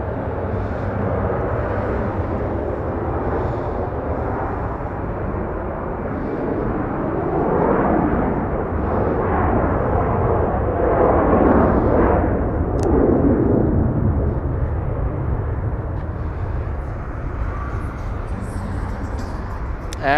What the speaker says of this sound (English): Delta 737 getting a move on, flying too as I take a look